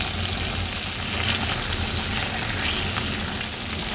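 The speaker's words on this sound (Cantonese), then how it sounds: "煎到兩邊都黃色" Seafood pan-frying in hot oil, browning on both sides for a seafood tofu stew, gives off a steady, dense sizzle and crackle that holds at an even level throughout, with no voices.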